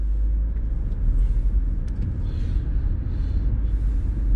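A modified Audi RS5-R, one of only 50 built with 530 hp, pulls away with a deep, steady engine rumble heard from inside the car, continuous and loud with no talking.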